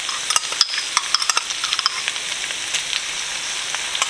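Garlic cloves hit a hot pan and sizzle, a bright steady hiss dotted with quick crackling pops that cluster early and then settle, close and fairly loud, with no voices.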